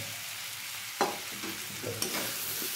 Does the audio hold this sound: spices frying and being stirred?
yes